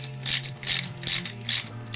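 A hand ratchet clicks in quick bursts while loosening a nut on a KDX motor during teardown, four crisp repeated ratcheting strokes close up in a quiet workshop.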